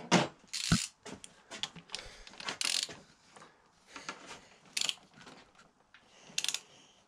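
A bolt head being tightened on a Honda CBR 125 motorcycle, a close series of irregular ratcheting clicks and metallic taps in short bursts with quiet gaps between them.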